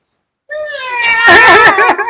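A person imitates a cat's meow with a loud, drawn-out wavering call, alone and close, during an animal sound challenge.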